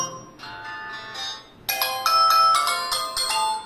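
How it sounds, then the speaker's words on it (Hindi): An Infinix Hot 12 Pro smartphone plays a bright, melodic ringtone, starting softly and then jumping to a louder chiming pattern of repeated notes, close and clear, with no talking. "फ्रेंड्स यहाँ से आप अपना रिंगटोन सेट कर सकते हैं फ्रेंड्स"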